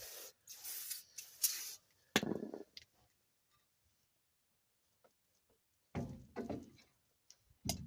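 Brake cleaner sprayed onto a car wheel hub during a wheel bearing job, heard as a few short, close hissing bursts separated by quiet gaps.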